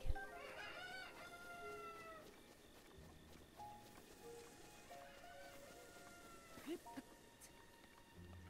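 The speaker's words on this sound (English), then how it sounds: "Cuckoos!" Chicken-like cuckoos in The Legend of Zelda: Breath of the Wild, a quiet run of clucks with a few higher crowing calls scattered through the game's background sound.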